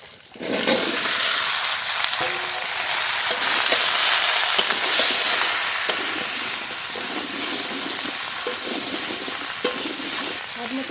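Cut bottle gourd and potato hit hot oil where fish heads are already frying, a loud burst of hissing sizzle that settles into a steady bubbling fry with occasional stirring.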